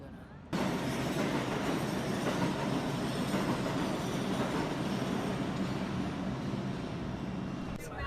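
A New York subway train rumbles and rattles loudly and steadily, wheels clattering on the track without a break from start to finish.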